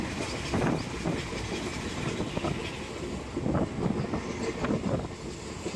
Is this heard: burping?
no